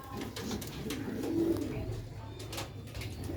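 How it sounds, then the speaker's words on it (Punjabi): Sialkoti Nooruddin breed pigeons coo in low, rounded throaty phrases close by, rising and falling over a soft background rustle, with no one speaking. "ਆਊਟ ਕਲਾਸ ਸਿਆਲਕੋਟੀ ਨੂਰਦੀਨ ਵਾਲੇ ਬਟੇਰੇ ਕਬੂਤਰ ਮਾਸ਼ਾਅੱਲਾ।"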